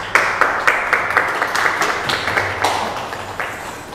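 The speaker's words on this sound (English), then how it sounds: "Give a round of applause for tonight's speaker." An audience at an evening Indigenous scholar lecture series claps for the night's speaker: loud, dense applause with sharp individual claps that gradually tapers off.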